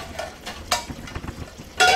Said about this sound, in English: Somebody's doing dishes.